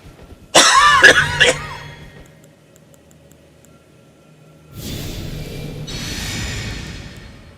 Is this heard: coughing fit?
yes